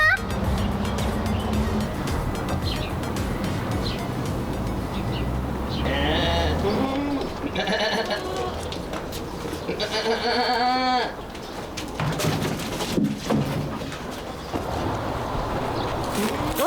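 Sheep bleat repeatedly, near and loud, in a livestock barn that also holds pigeons, with steady background noise and people talking in between.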